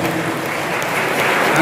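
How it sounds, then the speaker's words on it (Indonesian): Audience applause at the inauguration ceremony of the Graha MUI building in Batam, a dense, steady clapping wash that builds slightly toward the end. "Coba bayangkan, tepuk tangan untuk beliau."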